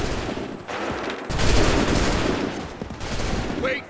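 Musket volley in Assassin's Creed III, loud massed gunfire crackling in overlapping waves with a rough, noisy roar, rising and falling over a few seconds.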